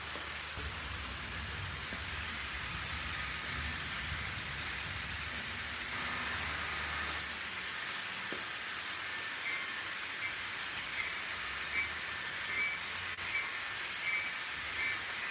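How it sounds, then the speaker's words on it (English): A steady rumbling clatter of a model train running continuously along Bachmann track laid directly on plywood, with a constant hiss and occasional faint squeaks. "The sound of the train running is very soothing"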